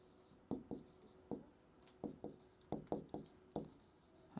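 Someone writes by hand during a physics lesson, making quick, close scratchy strokes in short irregular bursts, with brief pauses between words.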